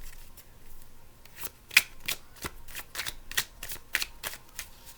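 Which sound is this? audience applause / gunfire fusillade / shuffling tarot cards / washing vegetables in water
shuffling tarot cards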